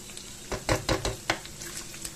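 Shrimp fry in coconut oil in a pan, a soft sizzle broken by several quick stirring scrapes and light clinks of a utensil against the pan, fairly quiet and close.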